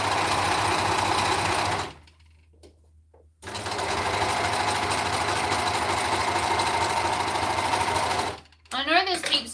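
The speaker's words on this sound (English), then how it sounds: "So I'm overlocking the 3 sides" An overlocker sewing machine runs steadily as it overlocks fabric edges, its fast whirring hum stopping briefly and then resuming, with a short voice near the end.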